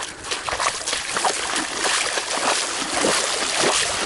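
Feet wade through shallow swamp water on a Big Cypress trail in Florida, a steady rhythm of close, sloshing splashes and trickles with each stride, carrying on throughout without any voices.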